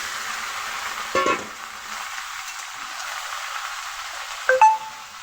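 Chicken fries in a pan with chopped onion and tomato, making a soft, steady sizzling hiss broken by two brief, sharper bursts.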